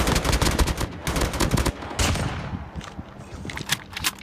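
Bursts of rapid machine gun fire in Call of Duty Mobile, loud and close, stopping and restarting in several volleys with brief pauses between.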